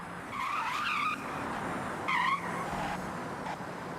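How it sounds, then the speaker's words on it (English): Tire squeal from a drifting car in Forza Horizon, loud and continuous over engine noise, with warbling screech bursts near the start and again midway as the slide tightens. No voices. "Those tire screeching noises seem a little off."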